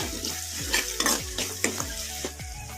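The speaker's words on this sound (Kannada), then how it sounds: "ಈಗ ಮೀಡಿಯಮ್ ಫ್ಲೇಮಲ್ಲಿ ಇಟ್ಕೊಂಡು ಟೊಮೊಟೊ ಮೆತ್ತಗಾಗೋವರೆಗೂ ಫ್ರೈ ಮಾಡ್ಕೊಂಬಿಡೋಣ" Tomatoes frying over a medium flame for restaurant-style handi chicken, a steady close sizzle broken by repeated rhythmic stirring scrapes of a spoon through the soft mixture.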